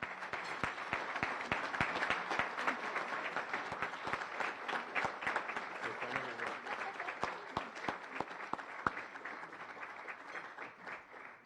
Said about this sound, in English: please help me give a warm welcome from the Las Vegas Rotary Club and round of applause and appreciation for her